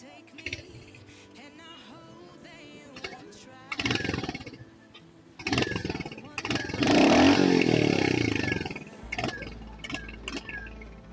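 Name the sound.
Royal Enfield Hunter 350 motorcycle engine running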